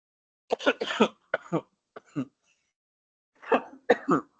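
A man with a cough breaks off from an online meeting to cough in several short harsh bursts, clustered in two groups with a pause between, close to the microphone.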